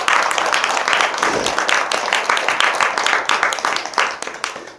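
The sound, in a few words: audience applause at a temple dharma talk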